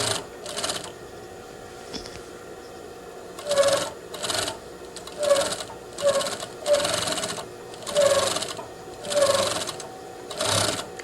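A sewing machine stitches a dress waist and skirt together in short repeated runs, each burst of rapid mechanical clatter separated by brief pauses, close and clear.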